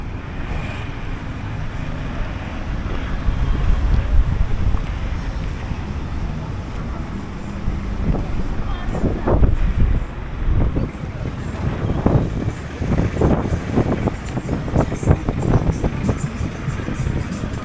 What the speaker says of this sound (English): The nice thing is the wind cooling.